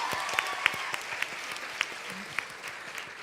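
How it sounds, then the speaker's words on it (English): Audience applause at an international youth peace summit in 2023, a steady, moderately distant patter of many clapping hands with a few sharper nearby claps, lasting the whole stretch without speech. "please give these two young men a rousing applause"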